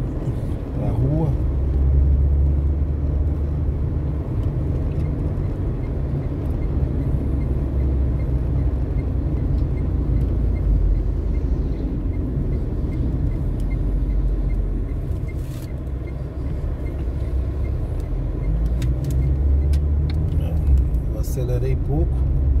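A car accelerates gently along the RN-226 road near Macaíba, Brazil, with a loud, steady low engine and road rumble throughout and a voice talking over it.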